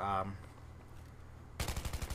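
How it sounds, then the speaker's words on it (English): Rapid gunfire from the Battlefield 3 beta on console, a dense burst of automatic shots opening the clip, then a quieter stretch before another fast volley of loud, closely spaced rounds near the end. "If you listen to the gunfire, let's just stop."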